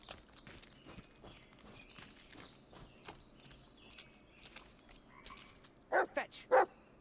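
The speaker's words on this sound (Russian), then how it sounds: "Куда туда гавкает?" Dog barking in the horror game Blair Witch (2019), a few sharp, loud barks close by near the end, heard after a stretch of quiet woodland ambience with footsteps and faint birds.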